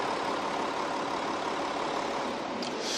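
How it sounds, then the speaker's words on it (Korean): An Audi diesel coupe-style sedan engine idles with a steady, smooth hum, a fairly faint, even drone that holds without change for a few seconds and carries no voices. "확실히 고가의 차량답게 엔진 소음 아직 굉장히 짱짱하고요."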